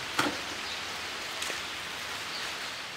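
Rain falls steadily as a soft, even hiss that lasts the whole stretch, with a couple of faint, brief ticks and no talking.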